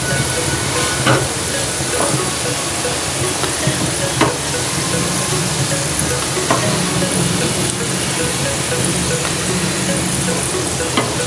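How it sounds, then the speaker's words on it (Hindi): Onions frying in oil until golden brown keep up a steady, dense sizzle with occasional crackles and pops, close and continuous throughout. "गोल्डन ब्राउन जो है फ्राई करना है और फिर हम आपको फ्राई करके दिखाते हैं"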